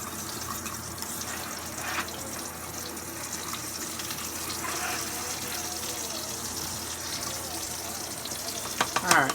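Cheese grits being stirred in a pot on the stove, with a steady soft sizzling, bubbling texture throughout and a few sharper scraping clicks near the end, close and moderately loud.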